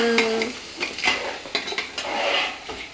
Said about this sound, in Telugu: పీతలు ఒకసారి అడుగు నుంచి తిప్పండి